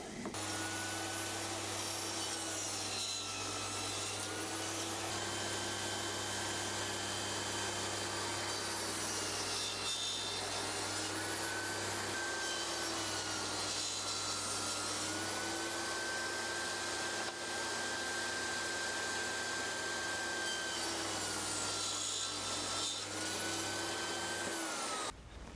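Continuous power-tool whine while cutting four small wood pieces for a little wallet-sized box, steady and fairly loud from start to finish with slight pitch dips as the blade loads, no voices.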